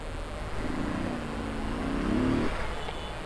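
Motorcycle engine on a moto trip to lake Amghass, revving up in a rising then falling whine close by over steady wind and road noise.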